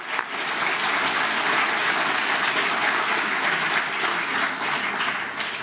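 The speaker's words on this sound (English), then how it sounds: "let's give them applause" Sustained, even applause from an audience at a university speech night, cheering on an a cappella group with dense, steady clapping that fills the whole stretch without a break.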